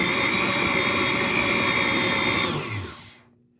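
Electric mixer churning sprinkles into sugar cookie dough: a loud, steady whirring motor drone with a harmonic whine, running for a few seconds before spinning down and cutting off.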